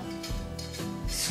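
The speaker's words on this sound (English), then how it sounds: "And you will need some ginger. Just gonna peel it roughly." A knife blade scrapes the skin off a piece of ginger in a few quick, rough rasping strokes, close and distinct.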